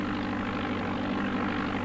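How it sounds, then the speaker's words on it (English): A propeller engine from the DOS-era video game Flight Simulator 4, a digitized sound: a continuous low droning hum with a steady buzzing pulse, alone and unvarying. "Prop engine,"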